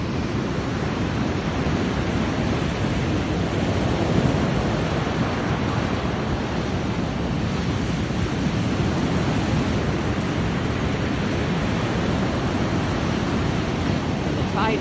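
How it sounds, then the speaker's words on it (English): Ocean waves roll back over a rocky beach in a continuous loud roar of surf and rushing water, the rocks tumbling beneath the wash, with wind buffeting the microphone throughout. "I love when the waves roll back here. You hear the rocks tumbling like marbles."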